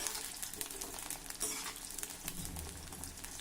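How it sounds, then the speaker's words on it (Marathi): Thick brinjal (eggplant) slices frying in oil over a medium flame, a continuous close sizzle and crackle with faint stirring, no voices. "आता या तेलामध्ये दोन वांगे देखील घालूया असे मोठे मोठे काप करून घेतले आहे वांग्याचे हे वांग्याचे काप देखील तळून घेऊया"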